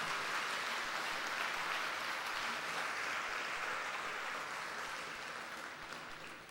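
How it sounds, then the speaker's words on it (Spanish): A church congregation applauds in a steady, dense wash of clapping at fairly low volume that thins and fades slightly toward the end. "Levántele un fuerte aplauso"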